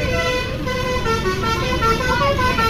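A Sonic tour bus pulls in at the Saung Galendo roadside stop in Ciamis, its musical telolet horn sounding in steady, tuneful tones over the loud rumble of its engine and the surrounding road traffic.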